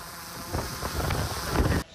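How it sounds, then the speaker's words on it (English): Gusty wind buffets a microphone outdoors during a drone fly-around over ruined trenches in war-torn Ukraine, a brief rough rumbling rush that swells and then cuts off abruptly. "It's a windy weather, so it's a little more difficult to fly."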